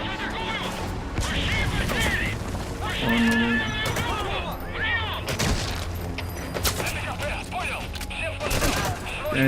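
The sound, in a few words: machine gun fire in Metal Gear Solid V video game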